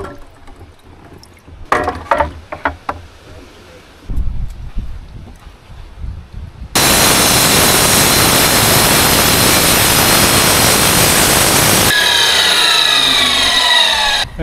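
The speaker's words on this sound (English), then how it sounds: "I got to finish it off with a hand cut-off saw." Hand cut-off saw slicing through a porcelain paver, preceded by a few knocks and handling bumps, then a sudden loud, steady, harsh grinding roar lasting several seconds before the blade winds down with a falling whine.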